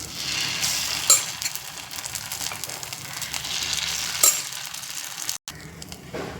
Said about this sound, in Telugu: సిమ్లో అలా వేగనిద్దాం